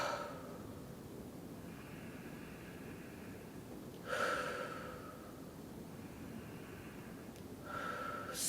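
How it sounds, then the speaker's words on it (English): Slow, deliberate breaths during a relaxation exercise, each long airy inhale or exhale close to the microphone, separated by quiet pauses in a calm room with no talking. "And then breathe."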